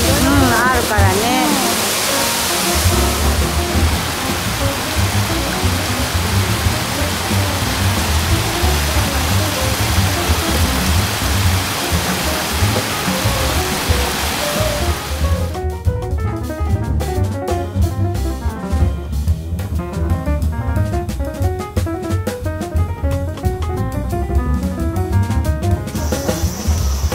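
A small waterfall near Fujinomiya pours with a steady, loud broadband rush. People talk over the falling water during the later part.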